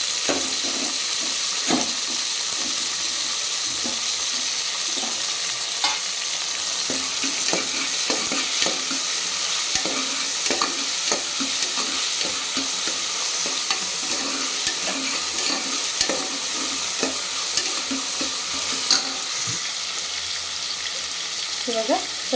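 Beetroot gravy masala with tomato fries in a pan with a steady close sizzle, while a spoon scrapes and stirs in frequent irregular strokes throughout.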